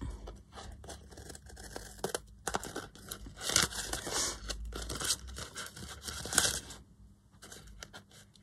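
Scissors snip and crunch through paper for a book-page craft project, a run of close, crisp cuts and rustles with short pauses between them.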